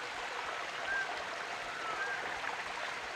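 Water running in a waterfall stream in Bilat, a remote village in Bansur tehsil, as a steady, even rush and trickle, fairly soft and continuous, with no voices.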